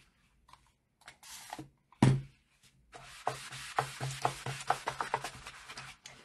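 An eraser scrubs chalk paste off a chalk couture board in bursts of dry, scratchy rubbing, close-up and fairly loud, with short pauses between strokes and no voices.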